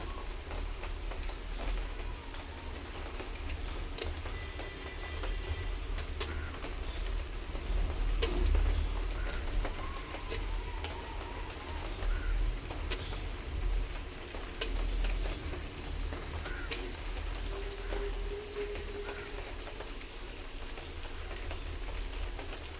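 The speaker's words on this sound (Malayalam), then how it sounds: "ഇനി നമ്മളിതിലേക്ക് മാരിനേറ്റ് ചെയ്ത് വെച്ച ചിക്കൻ ചേർത്ത് കൊടുക്കുകയാണ്" Marinated chicken frying in hot oil in a pan, a steady, low sizzle with scattered small ticks and pops throughout, fairly quiet and with no talking.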